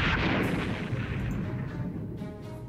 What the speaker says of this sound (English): They're firing some more M120s